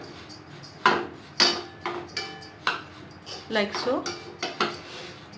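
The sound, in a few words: dry roasting oats in a pan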